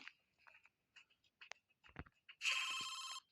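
A phone rings in the video game Robbery Simulator 2, a loud electronic ring bursting in after a stretch of quiet clicks and small handling noises, then sustained to the end.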